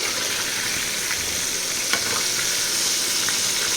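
KFC-style battered chicken frying in a pan of oil, a dense, constant sizzling hiss throughout with a few faint crackles and no speech.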